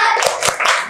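A classroom of pupils claps the 'tepuk fokus' rhythm together, three or four sharp, loud group claps in quick succession with no talking.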